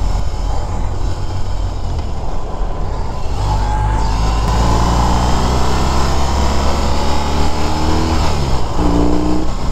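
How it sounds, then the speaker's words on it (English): A 2021 BMW R18 First Edition motorcycle lopes along at low revs with a deep, throaty exhaust, then pulls harder as revs climb, loud and close with heavy wind rush throughout. "there you can hear that engine now, or that exhaust now. That sounds nice. Real deep, throaty sound."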